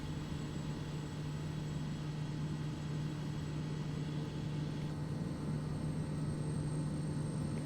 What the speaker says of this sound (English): I'm gonna lower my flaps here and land on the road beside it